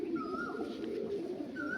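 Pigeons coo softly in a loft amid a low background murmur, with a couple of gentle, sustained calls rising above the hum.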